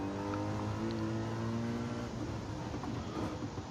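Race car engines in Gran Turismo 7 drone loudly and steadily, including a Lamborghini, with a sustained high engine tone that drops and roughens toward the end as the cars shift through corners.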